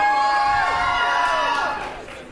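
A crowd cheers and shouts for a student athlete at a school gathering, voices whooping together in a loud, sustained burst that slowly fades toward the end.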